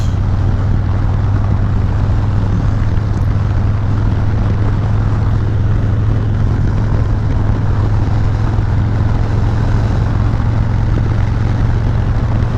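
A 2019 Harley-Davidson Heritage Classic 114 motorcycle rumbles along in sixth gear, a steady deep engine drone mixed with heavy wind rush, loud and continuous from the rider's position.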